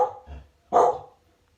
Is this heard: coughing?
no